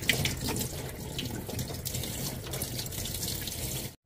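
An eel being rinsed clean under a running kitchen tap, a loud, steady gush of water splashing into the sink that cuts off abruptly at the end.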